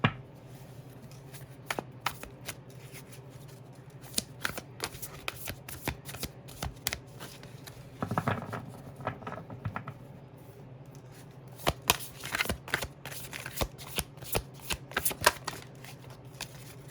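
Tarot cards being shuffled by hand, close and crisp, in repeated bursts of riffling and slapping taps across the whole stretch, with no talking.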